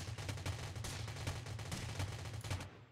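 Gunfire in the battle royale video game Rules of Survival, a dense, continuous stream of rapid shots rattling steadily for the whole stretch with no talk over it.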